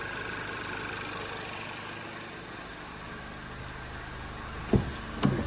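Ice-cold Volkswagen engine idling just after start-up, a steady low hum with slight vibration, followed near the end by two sharp knocks or clunks nearby.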